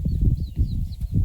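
A hen and her chicks cluck and peep steadily close by, with faint high chick calls over the low clucking at a rural home.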